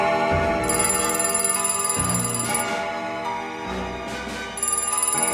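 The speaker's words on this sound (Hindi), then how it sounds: "ठीक 12 बजे फोन की घंटी बजी।" A telephone rings in repeated bursts, its bright electronic tone pulsing steadily over a low musical backdrop, with no one speaking.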